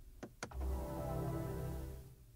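Shutdown chime of a BMW iX3 electric SUV, a sound design by Hans Zimmer: two short tonal blips followed by a sustained, swelling layered tone that holds steadily and fades out near the end, heard alone without talk.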